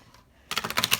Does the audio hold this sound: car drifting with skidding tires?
no